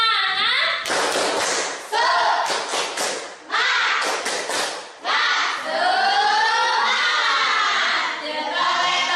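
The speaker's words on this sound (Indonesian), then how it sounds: "Untuk lebih semangat lagi, kita tepuk semangat dulu" A class performs a rhythmic spirit-clap cheer, loud chanted voices in unison punctuated by bursts of sharp group claps and thumps in a repeating pattern, close and energetic.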